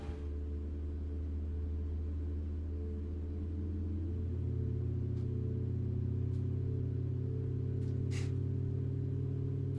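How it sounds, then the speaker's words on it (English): Boeing 737 MAX engines spooling up in Microsoft Flight Simulator, a low steady rumble that deepens and builds in a whine partway through, with a few faint clicks over the drone. "Like the engine sound starting up."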